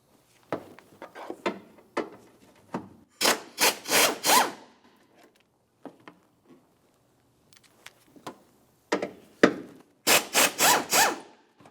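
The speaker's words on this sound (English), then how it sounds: "To remove the battery tray, we're going to start with these two 10mm headed bolts." 10mm-headed bolts being worked loose from the battery tray of a 2000-2006 Chevrolet Tahoe, repeated short ratcheting, scraping bursts in irregular clusters, close with quiet gaps between them.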